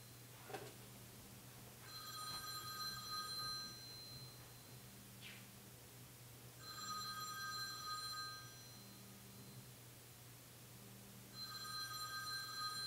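A telephone rings in repeated bursts of a bright electronic trill separated by short pauses, clear and steady over a low background hum, with no talking.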